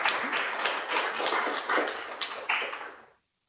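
An audience at a scientific conference session claps steadily for about three seconds, with a dense, even patter of many hands that ends abruptly.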